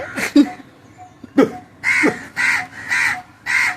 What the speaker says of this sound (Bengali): কাকটা আরো চাচ্ছে